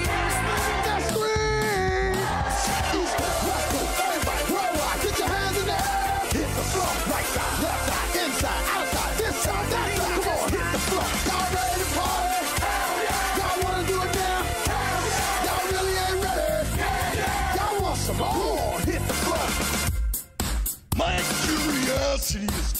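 A loud, dense remix track with crowd yells and whoops layered over steady beats and music throughout, dropping out briefly near the end before resuming.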